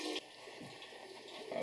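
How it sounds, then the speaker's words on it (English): Running water pours steadily from a tap, a soft, distant rushing wash that stays low and constant throughout with no speech. "I got water running."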